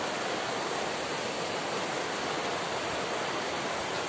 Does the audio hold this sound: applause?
no